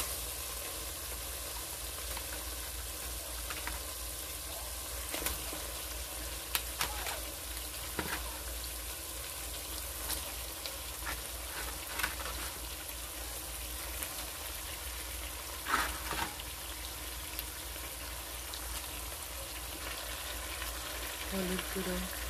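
Duck meat fries in a pan of oil spiced with bay leaves, cinnamon, cloves and cardamom. A steady, even sizzle carries on throughout, broken by occasional soft stirring clicks.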